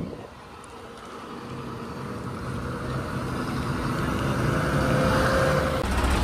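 An ordinary red MSRTC Ashok Leyland bus on the Alibaug to Pandharpur road, its steady engine drone and road noise close and slowly building, with no talk.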